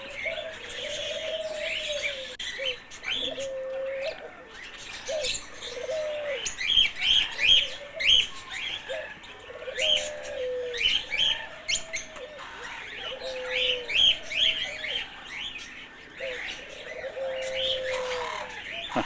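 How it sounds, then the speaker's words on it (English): Doves, cockatoos and parakeets call overhead in a South African bird park, a busy mix of repeated cooing, chirps and sharp squawks rising and falling close by with no one speaking. "lot of doves and cockatoos and parakeets. Look at the little guys right over your head"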